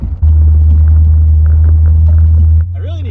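Steady low rumble of a 1976 Dodge Coronet CHP police car with a 440 engine idling up close and loud, which drops off near the end as other sounds come in.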